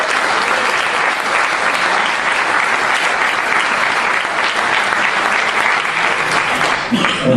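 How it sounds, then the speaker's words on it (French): Audience applause at a French political meeting, a large crowd clapping loudly and continuously, dense and even throughout, fading slightly at the very end. "Je vous demande de l'applaudir."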